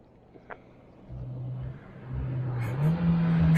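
A Honda Civic Type R FK8 with HKS parts starts quiet, then its engine swells and climbs in pitch as it accelerates nearby.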